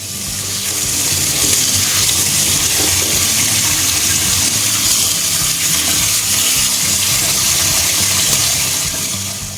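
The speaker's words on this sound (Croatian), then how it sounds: "dobro ih operite pod jačim mlazom hladne vode" Steady, loud rush of strong cold running water from a tap washing aronia berries, a continuous splashing stream with no talking.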